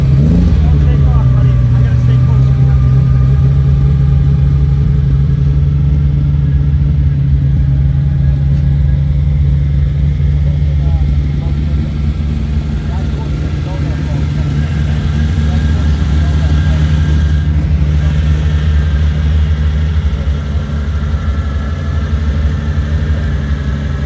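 A Ferrari sports car at a Ferrari concours show starts with a sharp, loud burst. It then settles into a steady, throbbing idle close by that continues unbroken to the end.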